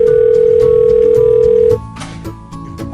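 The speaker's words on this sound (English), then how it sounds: "Oh, excuse me a second, phone's ringing." A steady electronic telephone tone sounds for under two seconds over background music, then cuts off, leaving only the music playing.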